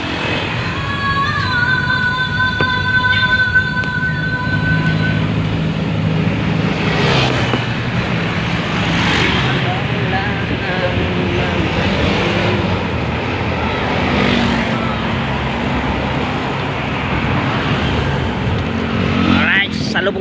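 Steady highway traffic roars close by, a continuous broadband rush with several louder vehicles swelling past around the middle and near the end.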